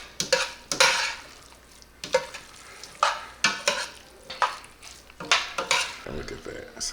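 Shrimp being stirred into truffle Alfredo pasta in a pan, heard as a series of close, repeated scraping and clattering bursts from a utensil against the pan, with a soft sizzle between strokes.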